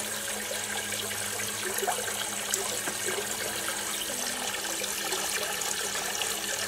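A steady stream of water flows and splashes continuously at an even, moderate level, with a faint low hum from nearby PC fans underneath.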